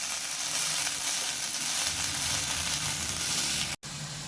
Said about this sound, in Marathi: भाजी छान परतली की त्यामध्ये आपल्याला भिजवलेली डाळ घालायची आहे. छान मिक्स करून घेऊया.